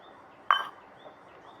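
Ice water in a glass gives a single bright clink, close and brief, followed by quiet.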